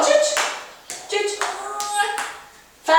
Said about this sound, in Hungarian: Felemeled a kezed, tapsolsz!